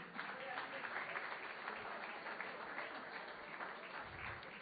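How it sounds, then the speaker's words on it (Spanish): Church congregation applauding at a Sunday service, a steady dense wash of clapping throughout, somewhat distant and even in level. "Un aplauso para Abraham Lincoln."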